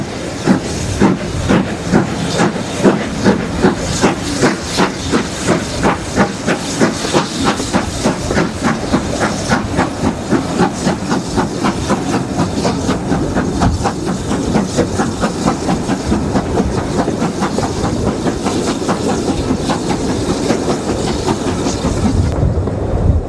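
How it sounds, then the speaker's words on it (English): Steam train with a fault making an unwanted brake application: a loud, continuous hiss over a steady rhythmic clatter of wheels that lasts the whole stretch. "unwanted brake application, probably caused by a fault"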